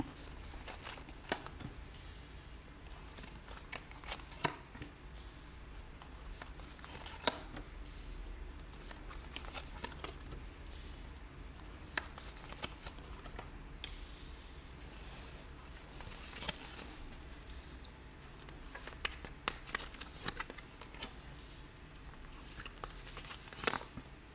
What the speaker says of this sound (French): on va partir sur un tirage en 9 cartes